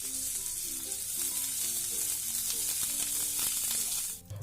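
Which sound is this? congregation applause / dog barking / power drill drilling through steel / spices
spices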